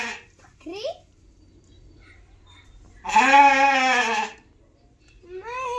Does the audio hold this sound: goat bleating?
yes